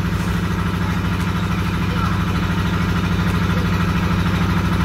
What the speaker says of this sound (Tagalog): Sana naririnig nyo ako na maingay yung makina